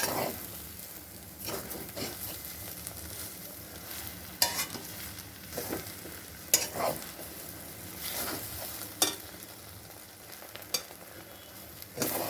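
Bread mixture with a spoonful of turmeric is stirred and fried in a pan, making a quiet continuous sizzle broken by sharp spoon scrapes and taps against the metal at irregular moments.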